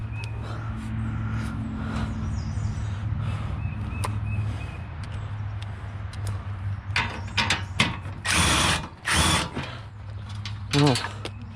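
A hand ratchet loosens a bolt on a salvaged 2010 Nissan Rogue S AWD: close, repeated clicking bursts with a low mechanical hum behind them, and a voice talks over parts of it.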